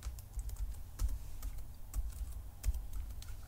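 Computer keyboard keys tapped to enter a password on a Linux Mint 18.1 Cinnamon desktop, a quiet run of light clicks with a few sharper strokes, close and alone.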